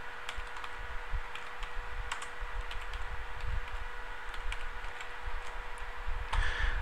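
Typing on a computer keyboard while entering a title into a Microsoft Excel spreadsheet: light, irregular key clicks in quick bursts over a faint steady hum, quiet and close.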